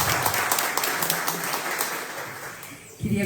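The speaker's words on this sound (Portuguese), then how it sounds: "Por gentileza, mais uma salva de palmas." An audience at a forum on popular tradition applauds a speaker with sustained, fairly loud clapping that fades out near the end, where a voice begins.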